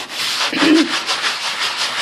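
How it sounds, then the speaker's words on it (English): Steady, gritty rubbing of a fine-grit sanding block against a wooden kitchen cabinet door, in smooth back-and-forth strokes, close and continuous. "she's using a fine grit sanding block"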